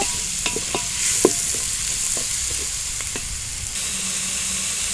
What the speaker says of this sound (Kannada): ಚಿಲುಕ್ಸಿದ ಅವರೆಬೇಳೆ ಹಾಕೊಳ್ಳೋಣ ಅದನ್ನು ಚೆನ್ನಾಗಿ ಫ್ರೈ ಮಾಡಬೇಕು